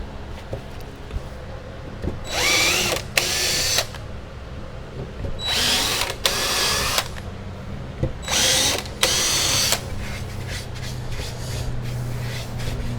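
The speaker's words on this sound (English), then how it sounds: "I'm going to go ahead and drill those, tap them out 1024." Power drill whining through 3/16-inch aluminum in several separate bursts of a second or so each, loud and close, with quiet shop noise between runs.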